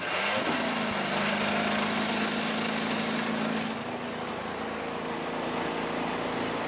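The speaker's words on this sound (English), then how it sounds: "Drivers, start your engines!" IndyCar race cars at the Ontario Honda Dealers Indy at Markham fire up their engines, a loud, dense mechanical roar with a steady drone that eases slightly partway through, heard without talk.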